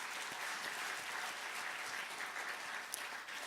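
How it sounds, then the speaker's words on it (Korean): Congregation applauding church volunteers during a Korean Sunday service, a steady, dense wash of many hands clapping at moderate distance, fairly quiet and even throughout. "그분들 위해서 박수 한번"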